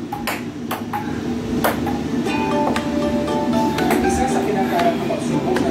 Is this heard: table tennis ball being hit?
yes